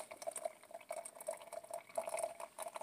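Hot boiling water poured over coffee grounds during off-grid coffee brewing at home, a soft steady trickling and bubbling pour with gentle splashes, faint and close, with no talking.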